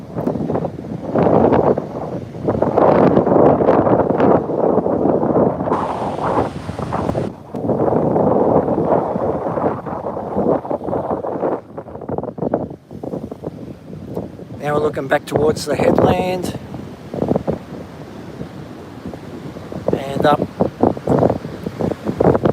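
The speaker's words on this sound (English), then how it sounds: "Let's have a look at these waves." Ocean waves and gusting wind at Hastings Point during a low-pressure system, with a steady roar of surf and wind buffeting the microphone as someone talks over it throughout.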